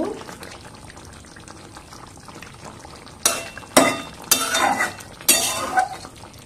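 Chal kumro shukto simmers in a pot with a low bubbling background, then several loud, close clanks and scrapes of a spoon stirring against the pot.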